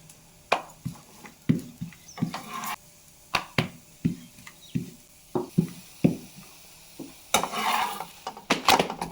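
Stuffed bottle gourd paratha rolled out with a rolling pin, a steady series of close knocks and taps on the board, evenly spaced at first and then quicker toward the end, with no talking.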